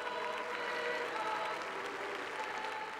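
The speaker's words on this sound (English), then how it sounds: "Again, the people clapped and cheered." Dense, steady applause and cheering from a large outdoor crowd at a papal inauguration in Rome, continuous and loud throughout with no pauses.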